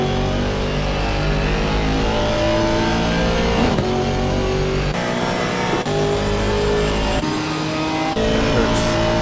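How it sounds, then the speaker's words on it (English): GT4 race cars, including a Porsche, race closely at Donington, their engines roaring loud and continuous with pitch shifts from gear changes and passing cars, no talk. "Look at how close it looks with Amro trying to get past Eric's Porsche"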